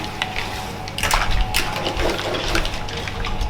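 Pasta cooking water poured into a pan with bigoli, a splashing gush that swells partway through and carries on over faint clatter, with no speech.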